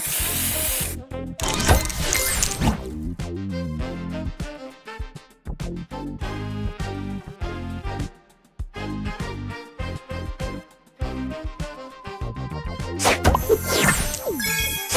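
Spray booster effect in the Match Masters puzzle game: a loud burst of hissing spray over busy game music with chimes and whooshes, repeating near the end.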